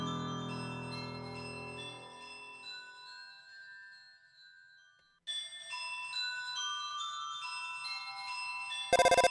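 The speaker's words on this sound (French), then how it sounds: "Oh, téléphone." A phone ringing in the video game Undertale, a bright chiming tone pattern that begins after a stretch of game music fades out, repeating steadily at moderate loudness and ending in a short burst.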